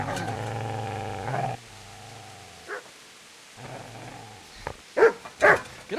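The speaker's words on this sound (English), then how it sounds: "Get away, you mutt!" A dog attacking in Kingdom Come: Deliverance, growling and snarling in a rough sustained burst, then a pause and a run of sharp, loud barks and snaps toward the end.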